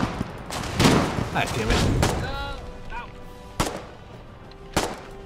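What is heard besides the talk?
gunfire in video game Colonial Marines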